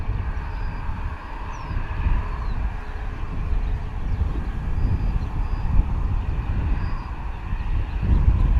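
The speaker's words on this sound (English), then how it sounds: "Typical 737 behaviour, like nose coming up but still taking a while to actually lift up and off" A Boeing 737 takes off from Bristol Airport with a continuous distant jet engine roar. Wind buffets the microphone throughout.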